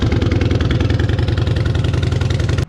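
A Yamaha Bolt motorcycle engine idles steadily to warm up, its loud, close, even low thumping pulse running without a break before cutting off abruptly at the very end.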